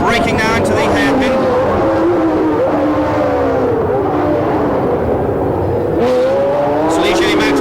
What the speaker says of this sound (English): look at the speed of that Matra engine, going past Jean-Pierre Jarier